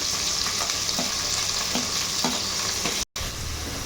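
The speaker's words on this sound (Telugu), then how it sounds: "ముందుగా పచ్చిమిరపకాయలు వేసుకుందాం. తర్వాత కాలీఫ్లవర్ వేసుకొని," Green chillies and cauliflower fry in a hot pan of oil, giving a steady, loud broadband sizzle with faint stirring scrapes and a brief dropout near the end, with no talking.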